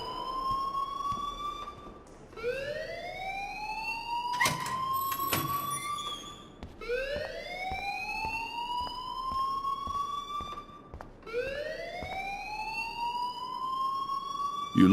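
An electronic alarm in the video game Life is Strange rings continuously, rising in repeated upward-sweeping wails, loud and steady for the whole stretch with no talking over it.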